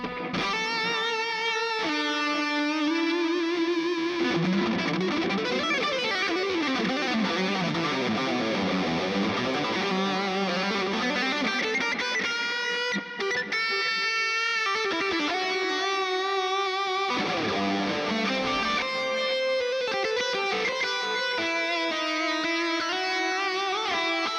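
Heavily distorted electric guitar through Alnico 3 pickups playing sustained chords and sliding lines, thick and continuous with a slight warbling effect, no talking.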